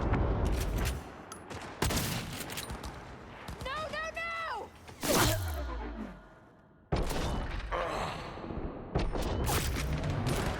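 Gunfire bursts from the video game Cyberpunk 2077, loud sharp shots in irregular clusters mixed with other game effects and a voice speaking over them.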